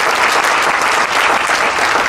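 Audience applause at a Denver Super Saturday business event: dense, steady clapping from a large room that stays loud and even throughout, with no voices standing out.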